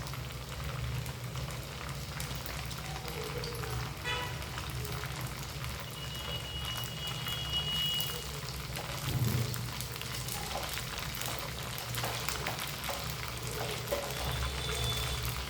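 Leftover rice and onions frying in a pan give a continuous low sizzle and bubbling hiss that stays steady and close throughout, with no talking.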